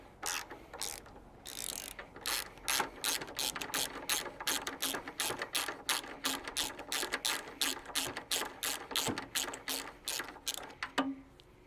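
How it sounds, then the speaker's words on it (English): Ratchet wrench clicking steadily while backing a spark plug out of a Bolens QT17 garden tractor engine, a long run of close, rhythmic pawl clicks with short pauses, no talking. "I'm going to pull out the spark plug I just installed and we're going to check for spark"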